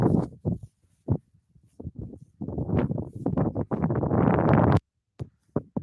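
Gusts of wind buffet the microphone in uneven bursts at Salt Lake City International Airport, low rumbling blasts that swell and drop out, with a quiet gap near the end.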